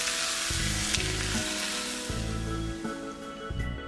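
Hot oil poured over salted, squeezed cabbage seasoned with sugar, soy sauce, bird's eye chili, garlic slices, chili powder, scallion and green pepper, a loud crackling sizzle that fills the whole stretch before easing slightly.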